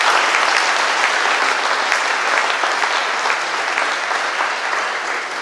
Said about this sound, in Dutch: Dames en heren, applaus voor de jeugd.